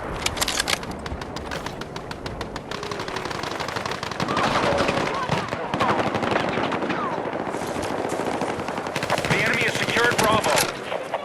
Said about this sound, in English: You can hear distant firefights and actually get a sense of the battlefield scale.